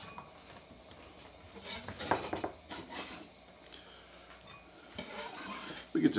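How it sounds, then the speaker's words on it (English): Dishes, pots and cutlery being washed at a kitchen sink, with scattered clinks, scrapes and rubbing over a low running background, a louder clatter near the start and another burst at the end. "I'm gonna wash more dishes."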